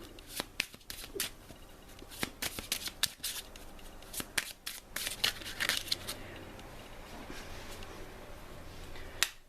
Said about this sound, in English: so let me shuffle the terror deck